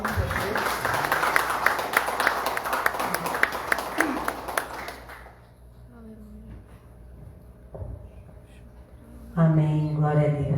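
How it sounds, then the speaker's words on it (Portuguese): A church congregation claps for God during a worship service, a dense burst of applause over the first five seconds that gives way to quieter room sound and a voice speaking near the end. "Dá uma salva de palmas para Deus."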